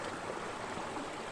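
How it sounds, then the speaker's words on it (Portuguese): A small stream running over stones outdoors in nature, a soft, continuous babble of trickling water, quiet and even throughout. "Essa aguinha corrente, assim, sabe?"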